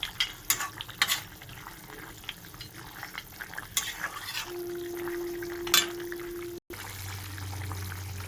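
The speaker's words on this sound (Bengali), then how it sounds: "ফুলকপির তরকারিটা ফুটে গেছে" A pot of cauliflower curry bubbles gently on the stove, with soft crackling simmer noise running steadily throughout. Stirring clatters and scrapes come in now and then, and a low steady hum enters near the end.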